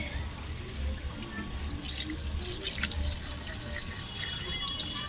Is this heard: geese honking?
no